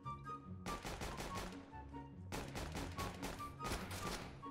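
Rapid bursts of gunfire in CS:GO, loud and close, with dense automatic volleys that stop briefly and then resume in several clusters.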